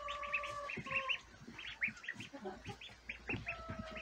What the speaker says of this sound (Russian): Какие красивые цыплята у меня вон там прячутся.